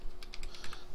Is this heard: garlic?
no